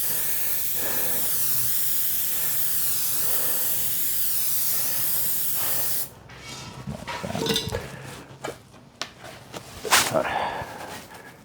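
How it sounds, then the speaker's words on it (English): A spray adhesive aerosol tin, used while upholstering leather loose seat pads for dining chairs, gives a steady, close hiss for about six seconds, followed by scattered clatter and handling knocks. "You can buy it in spray tins, aerosol tins."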